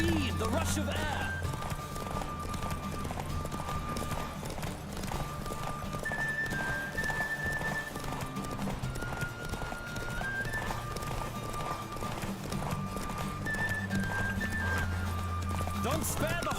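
A horse gallops in The Witcher 3: Wild Hunt, steady hoofbeats drumming under a whooshing rush of air, with neighs and tonal music over it and voices talking throughout.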